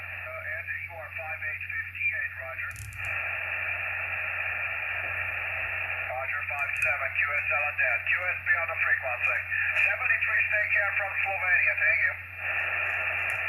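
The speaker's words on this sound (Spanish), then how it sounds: "Aquí tenemos una estación que creo que es la que estábamos escuchando recién." Shortwave broadcast station tuned on a Malahit DSP SDR receiver clone, playing a continuous band-limited voice program through a steady hiss with a low hum, carrying talk and a brief dip near the end.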